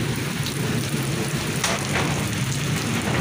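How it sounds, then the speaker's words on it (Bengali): Heavy rain pours down during a thunderstorm in a village. A dense, loud roar of rainfall carries low rumbling thunder, with no voices. "তো প্রচুর বজ্রপাত হচ্ছে"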